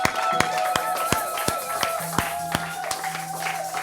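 A congregation at a church worship service claps in acclaim of God, a run of sharp handclaps ringing out close and fairly loud in an uneven rhythm, with no talking over them.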